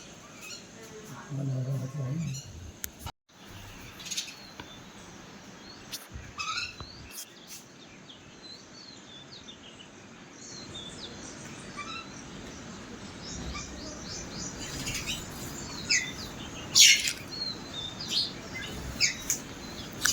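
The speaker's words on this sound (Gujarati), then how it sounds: "ખિસકોલી ચકલી કાબર" Sparrows and mynas chirp and call around a backyard feeder, scattered short tweets rising in number toward the end over soft background noise, fairly faint and distant.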